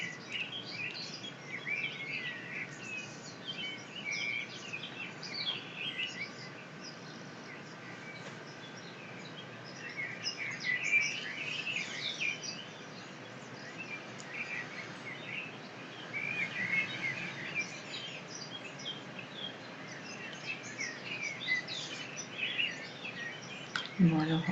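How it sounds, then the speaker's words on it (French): Birds sing out in nature, their chirps and short trills repeating faintly over a quiet, continuous background hush. "le son de ces oiseaux dans la nature"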